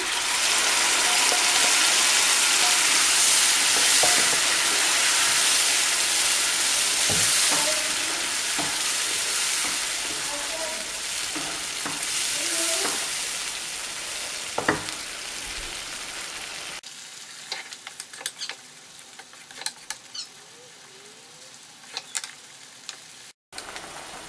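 Masala paste ground smooth for dum aloo sizzles loudly in hot oil, a steady bright crackle with occasional stirring clinks, quieting after a stretch as the frying settles into faint sputters.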